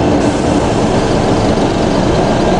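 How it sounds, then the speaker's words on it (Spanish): A Baldwin diesel locomotive engine revs in neutral while standing still, giving a loud, steady, dense rumble with broad noise that holds evenly throughout, with no talking. "Se acelera el diésel pero no se mueve la locomotora"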